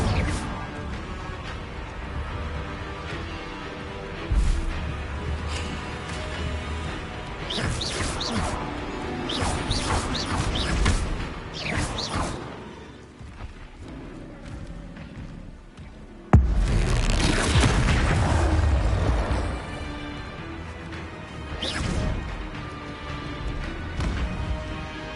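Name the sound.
Incendio fire spell being cast in video game Hogwarts Legacy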